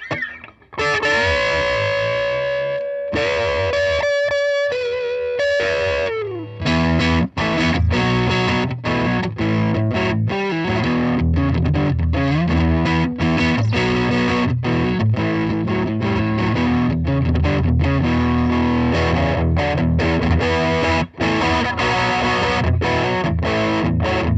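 Electric guitar, a Fender Michael Landau Coma Stratocaster through a GTO overdrive pedal based on a Nobles circuit, a held chord ringing out and then a steady run of crunchy, distorted riffs played continuously without talk.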